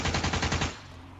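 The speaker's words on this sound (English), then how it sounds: "This is a fucking machine gun." Rapid burst of machine-gun fire from a turret mounted in a minivan in GTA 5, loud and close, a dense run of shots for most of a second before cutting off into a fading echo.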